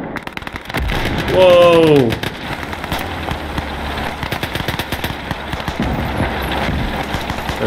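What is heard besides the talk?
field gun and gunfire in Call to Arms video game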